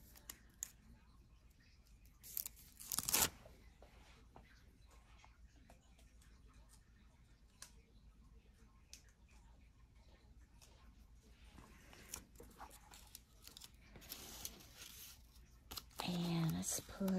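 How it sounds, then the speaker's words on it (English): Backing peeled off a sticker during Christmas card making with an Anna Griffin kit: two short, crisp rasping tears, one near the start and one at the end, in a quiet room. "I'm going to take the sticker back off of this"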